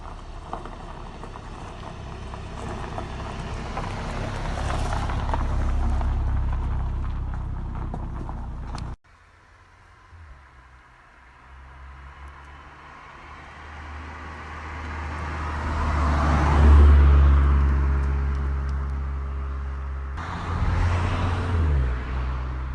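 A VW Golf GTI Mk7.5 hot hatch drives in normal mode, its engine and road noise droning steadily inside the cabin, dipping abruptly then swelling again as it accelerates, with wind rush and no talk.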